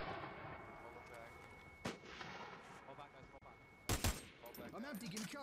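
Grenade blasts in the shooter game America's Army: Proving Grounds, two sharp bursts, one brief and a louder doubled one near the end, over steady gunfire-like game noise with someone talking throughout.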